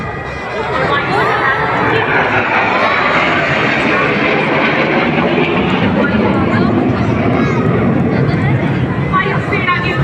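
Three MiG-29 fighter jets of 28 Squadron fly in formation over a Republic Day parade, a loud continuous roar filling the air above a cheering crowd.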